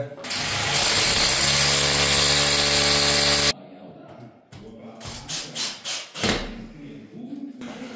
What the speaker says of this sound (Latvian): tad es eju pa vienam caurumiņam un pēc faktu urbju